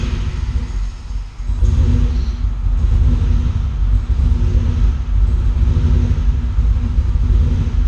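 A Subaru WRX engine idles after throttle position sensor calibration on Megasquirt, a loud low rumble near the car that dips briefly and then surges up, its idle rising and falling slightly, with no talk.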